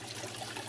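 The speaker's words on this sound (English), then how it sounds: "the splashing that's coming off of this" Water splashing off a waterfall tank set up with moss, rocks and wood: a brief, steady wash of trickling, splattering water at moderate level, no voices.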